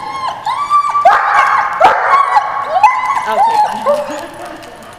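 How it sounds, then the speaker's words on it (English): A dog barks and yips excitedly in short, repeated bursts, with some whining mixed in, fairly close and loud throughout. "because Ozzie will go crazy go barking."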